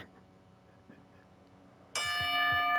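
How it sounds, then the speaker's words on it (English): A bell salute plays from YouTube through a small phone speaker; after a quiet stretch, a bright ringing tone suddenly comes in loud and sustains to the end. "I literally just looked up on YouTube on my phone 10-bell salute"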